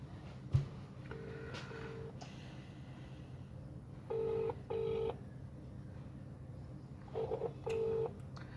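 A telephone call being dialed to a party spokesperson: pairs of short electronic keypad tones, then spaced groups of steady tone bursts, over a faint low hum with no talking.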